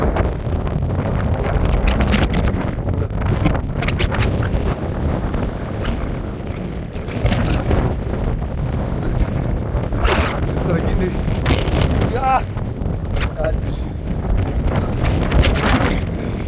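Strong wind buffets a boat, roaring and gusting hard against the microphone in uneven surges, while voices talk and exclaim through it.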